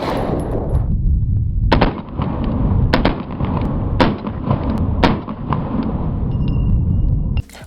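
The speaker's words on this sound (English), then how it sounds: "we could shoot some 124 grain 9mm ammunition in slow motion" A Glock 43X fitted with an ARC Division Reactor slide fires 124 grain 9mm rounds: about five sharp, loud reports spaced roughly a second apart over a constant heavy outdoor rumble.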